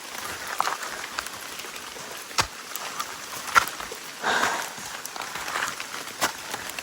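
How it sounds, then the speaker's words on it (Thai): Rain falls steadily in a humid rainforest during a storm, a soft continuous patter with occasional louder drops striking close by. "ฝนตกกล้องก็เปียกแล้วนะ"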